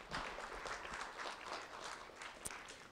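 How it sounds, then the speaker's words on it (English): An audience at a monthly ceremony claps for a guest speaker, a moderate, fairly quiet patter of many hands continuing evenly with one sharp louder clap near the end. "Let's have a round of applause for Elaine Sarlo, please."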